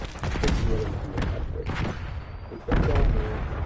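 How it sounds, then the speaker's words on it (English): A stun grenade goes off in Black Ops 6 on Nuketown, a dull booming burst among several heavy muffled blasts, with distant game noise throughout. "Frag going out. Stun thrown."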